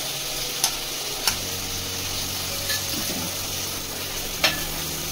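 Half a kilo of chicken, marinated for two hours, hits hot oil in a pot for dum biryani and crackles in a continuous loud sizzle, punctuated by a few sharp clicks of stirring utensils against the pan.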